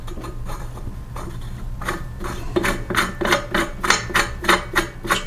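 A flywheel knocker is struck against the flywheel of a Briggs & Stratton 125K02-0243 engine during a teardown, a run of sharp metallic taps that start sparse and quicken into a regular rapid series of close, bright blows.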